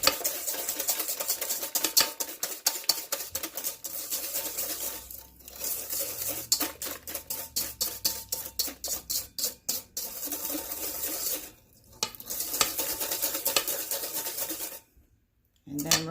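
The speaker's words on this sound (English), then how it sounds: "give this a good" A regular wire whisk beats double chocolate muffin batter in a bowl, with fast, steady rhythmic scraping and tapping that runs close and loud, broken by brief pauses.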